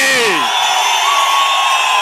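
A large crowd at an outdoor political rally roars and cheers in a dense, continuous wash of voices, with a voice sliding down at the start.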